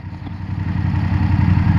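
A 2020 BMW F750 GS motorcycle engine drones steadily and fairly loud while riding, a low rumble with slight clatter, building gradually throughout with no voice.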